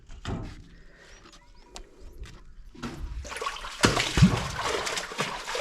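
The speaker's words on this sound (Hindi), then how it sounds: "बारिश का पानी जो है इधर से ये जाली के ज़रिए इस कुंड में स्टोर होता है।" Rainwater runs through a grill into a storage tank in a desert village in heavy rain, a trickle at first growing into a louder splashing, gushing flow, with scattered knocks and a faint voice.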